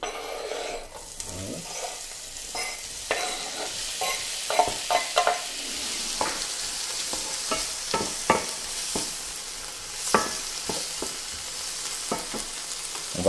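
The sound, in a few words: ingredients frying with butter in a pan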